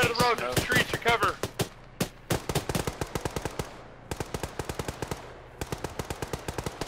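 Rapid machine-gun bursts and single shots crackle through a military video game firefight, dense and loud for the whole stretch, with a voice talking over the opening seconds.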